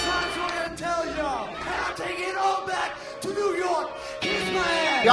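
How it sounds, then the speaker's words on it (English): Loud arena crowd at a wrestling show roaring and yelling continuously through championship tag team action, voices of many fans swelling and cheering without pause. "Listen to that crowd."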